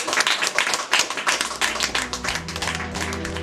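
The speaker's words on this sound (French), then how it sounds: "Donc, je pense qu'on peut vous applaudir." A small group claps for helpers on a Camino de Santiago pilgrimage, loose uneven hand claps close by, with a low sustained tone rising beneath them in the second half.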